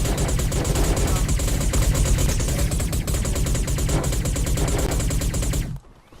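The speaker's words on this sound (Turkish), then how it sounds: "Sesimi bastırıyor olabilir bu silah sesleri." Dense, rapid video game gunfire crackles continuously for several seconds, loud and relentless, then cuts off abruptly into near silence.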